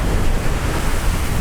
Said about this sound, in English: we've got some pretty nice waves